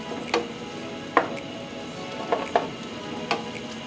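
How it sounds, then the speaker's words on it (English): A seafood diablo base sautéing in a pan, a soft constant sizzle punctuated by a handful of sharp utensil taps and scrapes against the pan. "We're going to let this saute for a few minutes"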